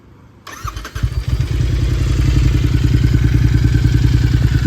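After a brief quiet moment, a Royal Enfield 650 twin motorcycle engine cranks and catches, then settles into a loud, rhythmic, pulsing idle close by.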